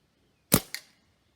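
A single shot from a Stoeger A30 air rifle firing Gamo Match pellets, a sharp close crack followed by a quick second snap, then silence.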